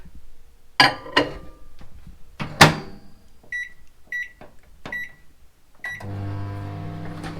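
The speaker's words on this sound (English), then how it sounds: "Put this in the microwave." A microwave door thumps shut, keypad beeps sound several times, then the oven starts with a steady low humming whir.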